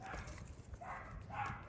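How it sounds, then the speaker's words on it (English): Neighbor's dogs bark a few times in the distance of an urban garden, faint and muffled over steady outdoor background noise. "My neighbor's dogs are having a discussion."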